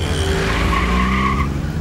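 A car skids and squeals its tires as it pulls away during a tense action-movie scene, the loud engine roar and rising screech sustained throughout with no talking.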